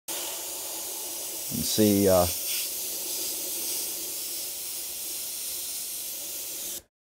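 An airbrush sprays a test pattern of medium gray paint mixed with reducer onto a small piece of notebook paper, giving a steady close hiss of air and paint that runs for several seconds, with brief speech near the start.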